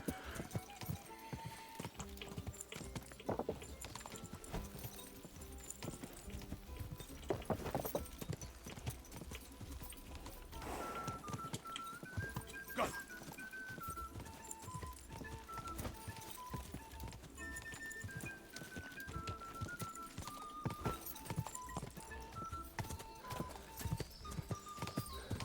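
Horse hooves clip-clop in a fast, steady gallop in the medieval game Kingdom Come Deliverance 2, with occasional snorts and faint game music behind the drumming rhythm.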